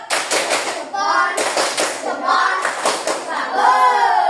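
A school class claps together in a patterned rhythm for another group, bursts of hand claps alternating with children's chanting voices.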